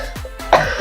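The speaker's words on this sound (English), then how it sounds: "I apologize too for the coughing." A person coughs a few times in quick succession, close and fairly loud, with brief pauses between the harsh bursts and no talking.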